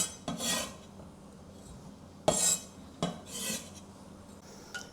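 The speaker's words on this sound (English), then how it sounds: "I would like to cut it to more or less the same shape of the tofu" A knife cuts luffa into pieces on a cutting board, a few separate soft rasping strokes with light taps between them, close and quiet.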